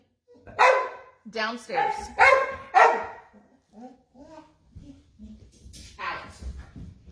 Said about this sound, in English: I hate it when the dog barks on a video.